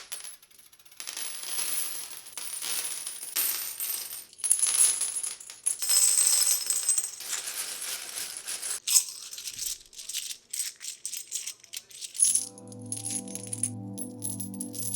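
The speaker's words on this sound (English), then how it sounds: "play a video just for several seconds so you can just hear how they sound on the table" Scythe metal coins clatter onto a tabletop in a rapid series of bright metallic clinks and rattles, fairly close, with no talking, ending in a steady tonal hum.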